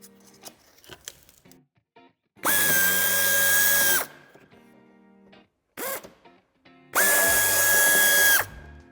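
A power drill driving out a screw while fitting a tow hitch to a 2016–2023 Mini Countryman F60, with two loud, sustained whirring runs of about a second and a half each, separated by brief clicks and handling noises.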